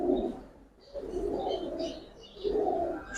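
Pigeons of the Kaldom breed, black-tailed, cooing in repeated low, throaty phrases that swell and fade, fairly close, with soft chirps and background hiss and no talk.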